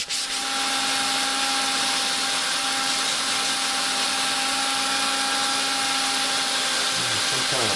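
A power tool polishes plastic slowly, giving off a steady, unbroken high whine over a low motor hum, close and loud with no voices.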